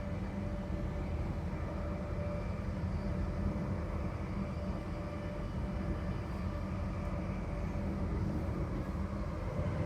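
A train carriage rolls along with a steady, low rumble and wheel rattle, continuous and unchanging, with a faint whine over it and no voices.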